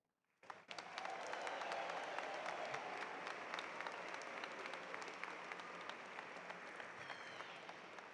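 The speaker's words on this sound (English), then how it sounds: "How about a round of applause for this wonderful group of people?" An audience at a summer games opening ceremony bursts into applause after a brief quiet start, then keeps up dense, even clapping that fades only slightly toward the end.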